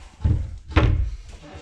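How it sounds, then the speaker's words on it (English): Vanity cabinet door rattling during a bathroom vanity install, heard as two short knocking thunks close by, with a faint trailing rattle and no talk. "It's just the rattle in the door, I guess."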